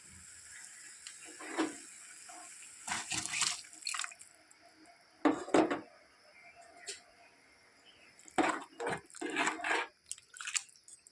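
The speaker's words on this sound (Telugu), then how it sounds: "బాస్మతి రైస్కి 2 గ్లాసులు వాటర్ పోయాలి" Water is poured over basmati rice in a cooking pot for egg biryani, heard as several short separate splashing bursts with quiet pauses between them.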